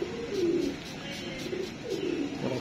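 Pigeons coo in soft repeated low phrases at close range, with a busy background of other bird sounds and no talking.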